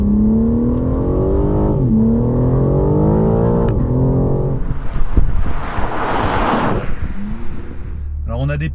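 A sports car accelerates hard, its engine note climbing steeply in repeated rising sweeps through gear changes before giving way to a loud rush of wind and road roar.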